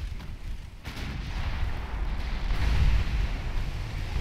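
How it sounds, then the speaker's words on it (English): Naval gunfire and shells striking a ship in the video game Ultimate Admiral Dreadnoughts, a muffled, rolling low boom of battle that builds in loudness, with softer thuds underneath. "See there now, shells bouncing off"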